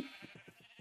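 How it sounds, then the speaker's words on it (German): Sheep bleating in the Minecraft video game, a quick faint wavering bleat with pulsing tremolo, alone. "Hinten am Feeder kommen noch mehr Babyschafe."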